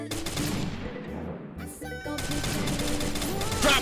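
Rapid gunfire from the Free Fire battle-royale game during a drop shot, dense bursts of shots crackling almost continuously over a busy game soundscape.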